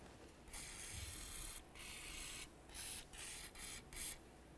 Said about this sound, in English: I'm going to use penetrant along where the axle nut is.